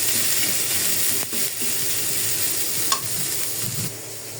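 Onion, garlic and green chillies hit hot oil for a fish curry base, giving a steady, close hiss of frying with a few brief spatula scrapes and knocks, no talking.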